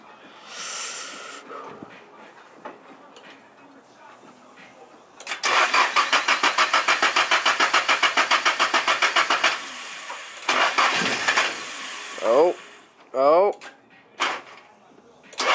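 Nissan S13 coupe engine being started in cold weather, a rapid rhythmic cranking that churns for several seconds, followed by scattered sputters and brief revs, close up with someone talking around it.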